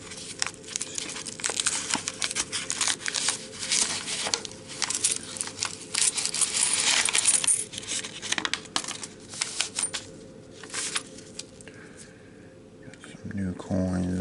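A coin roll of quarters is opened and handled up close, with crinkling paper wrapper and light clinks and shuffles of coins through the whole stretch, and a voice murmuring near the end.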